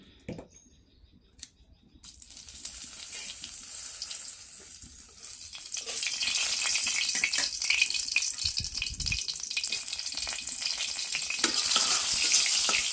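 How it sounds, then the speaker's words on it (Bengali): Vegetable bhaji frying in oil starts after a quiet opening and rises into a steady hissing sizzle that grows louder and fuller, with faint stirring and scraping underneath. "এখন করবো ভাজি, তেল দিয়ে দিলাম"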